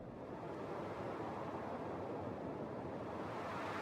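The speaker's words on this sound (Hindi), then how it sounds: "तभी अचानक वहां तेज हवाएं चलने लग गईं।" Strong wind blowing as a horror story sound effect, a dense, steady roaring rush with no breaks, heard alone and fairly loud.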